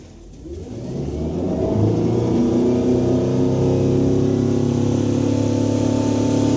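A Centurion NV243 surf boat's PCM ZZ5 engine revs up from idle, its pitch climbing over the first two seconds and then holding a steady, loud drone at cruising speed.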